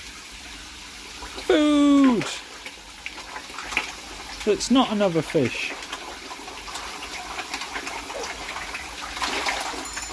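Water from a Bakki shower aquarium filter system runs as a continuous splashing rush, with voices talking over it in bursts.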